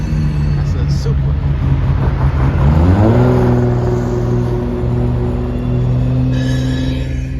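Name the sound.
Toyota Supra car driving past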